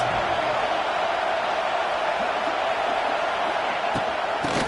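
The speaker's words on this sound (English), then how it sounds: "Listen to this crowd just shaking the girders of this place, trying to help their defense." Stadium crowd at a Wisconsin vs. Ohio State football game roaring steadily, a loud, dense wall of cheering and noise that holds without a break from start to finish, no clear voice standing out above it.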